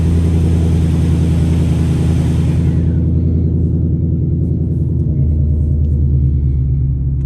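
A 2024 Mustang GT with Kooks green cat exhaust idles loud and steady, a deep rumbling drone that is rough and rich at first, then settles a little quieter and smoother.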